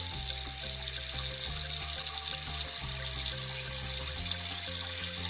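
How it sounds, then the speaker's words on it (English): Cold water runs from a tap into a plugged sink, a steady, close rushing that fills the whole stretch with a faint tonal background underneath. "Plug it back up, fill it back up with cold water."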